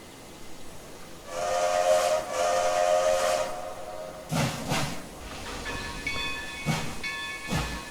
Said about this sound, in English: they are still the same chuff sounds as the Canadian National Pack